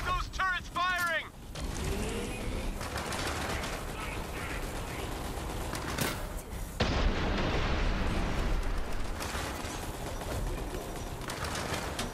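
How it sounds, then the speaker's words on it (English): Turret gunfire booms and rumbles through a chaotic battle in Borderlands 3, heavy blasts and explosions rolling on continuously after a few chirpy electronic tones at the start. "Get those turrets firing!"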